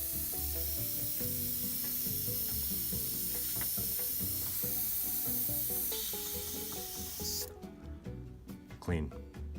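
An airbrush with its valve wide open spraying thinner, a loud, steady close hiss running continuously over background music, then cutting off abruptly near the end, followed by a few faint handling sounds.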